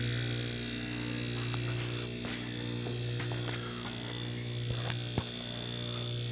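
A homemade vacuum pump converted from an air-conditioner compressor runs steadily, giving off a constant electric hum and buzz at moderate level, with a few faint clicks and ticks over the drone and no talking.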